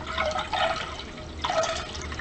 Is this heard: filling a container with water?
yes